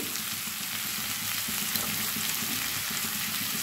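Radish, pointed gourd and pumpkin fry together in hot oil for a mixed-vegetable labra, making a dense, continuous close sizzle with a few soft stirring sounds. No one talks.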